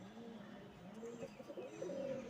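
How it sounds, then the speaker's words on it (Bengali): A teddy pigeon kept in a cage gives soft, low cooing calls that repeat faintly at a close distance. No voices are heard over it. "খুব ভালো কবিতর এটা।"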